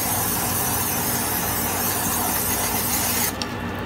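A steady, close aerosol hiss of oil being sprayed onto chicken in a Magic Chef XL air fryer, continuing for about three seconds before cutting off abruptly.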